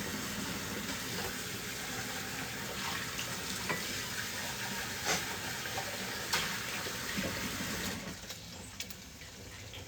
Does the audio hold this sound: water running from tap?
yes